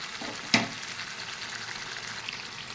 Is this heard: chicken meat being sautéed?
yes